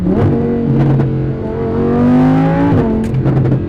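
A V10 supercar engine revs and drones steadily from inside the car, its pitch rising and falling in a few swells, loud and continuous with no talking.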